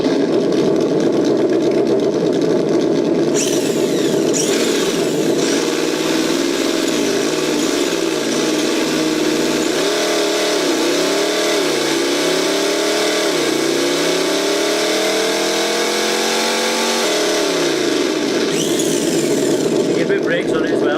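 Simulated engine sound from an ESS One sound module fitted to a Tamiya Lunch Box RC car, a loud steady idle that revs up and down in rising and falling sweeps before settling back, with short bursts of hiss and crackle.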